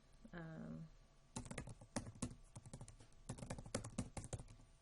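Clicky keystrokes on a computer keyboard as a password is entered, coming in quick irregular bursts of taps after a short voice-like sound at the start, close and fairly clear.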